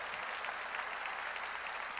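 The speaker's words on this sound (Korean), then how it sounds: "아니 박수 치려면 깨달았으면 세게 치라고." A church congregation applauding during a worship service, a dense steady patter of many hands clapping at moderate volume, heard from a distance with no voices over it.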